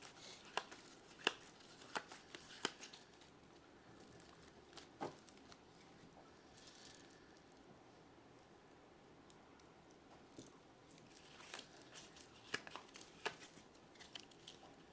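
Playing cards being shuffled close by, with crisp riffling bursts and taps coming in irregular clusters, then a quiet pause before more shuffling.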